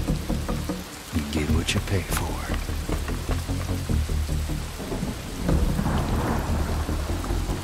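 A thunderstorm in the Western game Desperados 3 rumbles with deep rolling thunder over steady heavy rain, dense and close, while characters speak over it.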